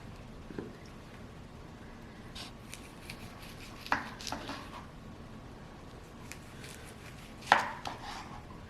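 A knife chops scallops for a spicy scallop roll: soft, quiet cuts against a board at an irregular pace, with two sharper knocks standing out, and no speech.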